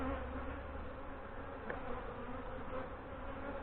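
Honey bees drone steadily in an open hive during a June inspection, a dense, continuous buzz close to the microphone with no pauses and no talking.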